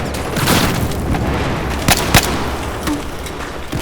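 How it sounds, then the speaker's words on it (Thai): Explosions rumble through a Battlefield 4 multiplayer match in a city, with a steady roar of battle noise and a few sharper booms and blasts standing out near the middle and the end. "ระเบิดระเบิด"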